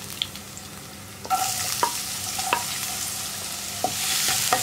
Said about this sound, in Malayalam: സവോള ചേർത്തിട്ട് ഒന്ന് ട്രാൻസ്പെറൻ്റ് ആയി വരുന്നത് വരെ ഒന്ന് വഴറ്റിയെടുക്കുക.